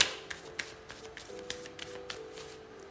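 Tarot cards being shuffled by hand, a run of quick crisp riffling taps and snaps close by, with no voice.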